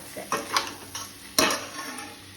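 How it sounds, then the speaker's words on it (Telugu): Crushed tender tamarind leaves go into a cooking pan and get stirred, giving a few spaced clinks and scrapes of a utensil against the pan, moderately close with a faint background hiss. "చింత చిగురుని కూడా వేసేస్తున్నాను."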